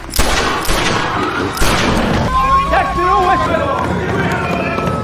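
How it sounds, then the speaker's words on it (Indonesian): In a film scene, six sharp gunshots crack in quick succession early on, followed by shouting voices and commotion from a crowd. "Dengan 6 kali tembakan, Udam berhasil membunuh Dwyer"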